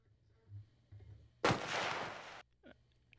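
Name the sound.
distant gunshot in a video game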